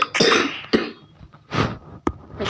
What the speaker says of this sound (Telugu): నాకు దగ్గు వస్తుంది.